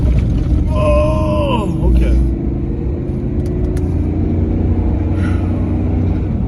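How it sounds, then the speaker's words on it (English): A truck's engine rumbles loud and steady, with a low drone continuing after a brief rise as it is launched and driven off at a boondocking site near Quartzsite; a person speaks briefly over it. "Hold on, I gotta launch the truck."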